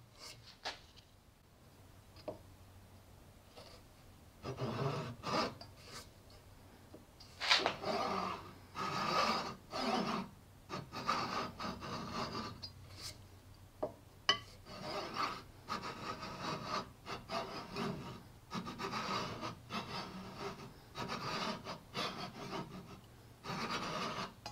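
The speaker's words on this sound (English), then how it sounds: "as I saw, I'm just kind of sawing in the radius as I go" Rhythmic rasping strokes of a fine fret saw cutting fret slots into a wooden guitar fretboard, close up, steady back-and-forth work with brief pauses between runs.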